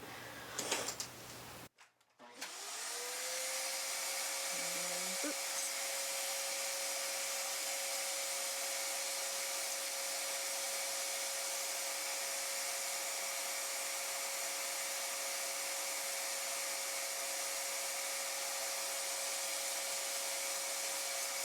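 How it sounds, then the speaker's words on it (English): A vacuum cleaner switches on after a few clicks and runs steadily and loudly, cleaning the lint-filled bobbin area of a 1964 Singer 600 Touch N Sew sewing machine, with a brief change in pitch early on and no talk. "I'm going to hit it with a vacuum one more time just in case anything shakes loose."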